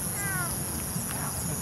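A cat meows outdoors at night, a thin, faint call rising out of steady background noise and buzzing insects, with a second fainter cry following shortly after.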